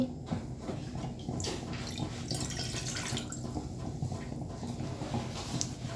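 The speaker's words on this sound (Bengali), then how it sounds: "এখন আমি একটি প্যানে এক গ্লাস পরিমাণের মতো পানি দিয়ে দিচ্ছি" A glass of water poured into a cooking pan, a faint continuous splashing trickle with light drips across several seconds, close by and without talk.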